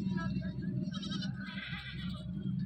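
A goat bleats repeatedly at a Barbari goat market in Tando Adam, with a crowded outdoor din of voices and livestock around it.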